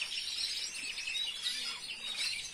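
Small caged birds chirp and tweet continuously in a high, busy chorus, fairly close, with no voices heard.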